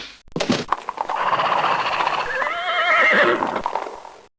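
A horse whinnies loudly and alone after a sharp thump at the start, its shaky neigh rising and wavering for about three seconds before tailing off.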